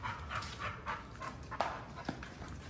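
A small dog pants quickly in a rhythmic series of breaths while being bathed with soap, close by, with a couple of brief sharper sounds and no talk over it.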